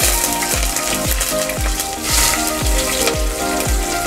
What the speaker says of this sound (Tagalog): Ang version ko ay ang pinagsasama ko nagigisahin ay ang bawang at saka luya.